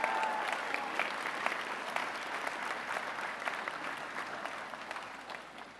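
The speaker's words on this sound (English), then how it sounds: "You may cheer." Convocation audience at Catawba College applauding and cheering to open the fall semester, a dense, steady wash of clapping that stays loud throughout and eases slightly toward the end.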